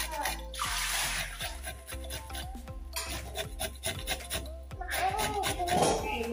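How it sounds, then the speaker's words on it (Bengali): Carrots being grated by hand on a grater, in repeated scraping, rasping strokes close by, with some water sounds mixed in and faint background noise between strokes. "গ্রেটার দিয়ে গ্রেট করে পানি ঝরে রাখবো"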